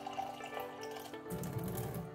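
Water is poured into a baby bottle up to a marked fill line, a short gurgling splash of running liquid that grows fuller and louder partway through, close by with no talking.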